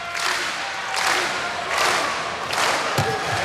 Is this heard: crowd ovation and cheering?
yes